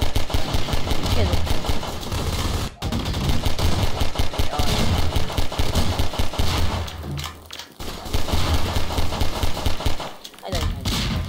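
Rapid machine-gun fire from a Garry's Mod Flood mod match rattles almost nonstop, loud and close, breaking off briefly twice, while a player talks over it.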